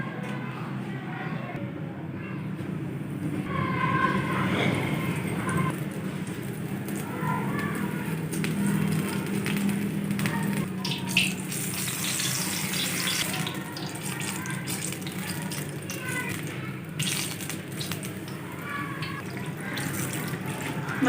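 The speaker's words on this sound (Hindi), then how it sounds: "सबसे पहले हम बैंगन के पकोड़े फ्राई कर लेंगे" Eggplant pakoras frying in hot oil, a steady hiss and crackle under faint background noise that runs throughout.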